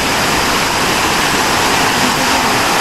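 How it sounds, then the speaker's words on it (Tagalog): A waterfall on the Tapuakan River in Pugo, La Union pours in a loud, dense, unbroken roar of rushing water close by, with no talking. "Oh, ayan, waterfalls."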